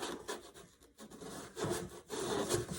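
Homemade wooden camera box sliding in and out, soft scraping wood-on-wood rubs in two or three short strokes, close and quiet.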